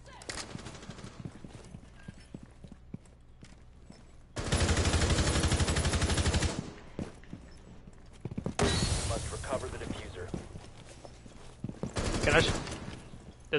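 Gunfire rips out in Rainbow Six Siege as rounds are fired into a brick wall, loud sustained bursts in three separate stretches with quieter gaps of footsteps and game noise, and a voice talks at times.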